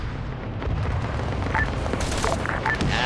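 An incoming artillery round in a video game lands as a distant, muffled boom inside a steady low rumble of battlefield noise, followed by faint scattered crackles, with no speech.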